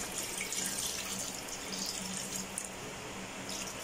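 Tap water runs into a cooking pot as it is topped up for creamy sopas, a Filipino milk and macaroni soup, making a steady, soft, continuous pour and splash with no talking.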